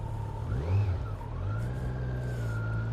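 A 2020 Kawasaki Z900 motorcycle pulls away, its engine revving up in rising pitch sweeps before settling into a steady accelerating drone, loud and close.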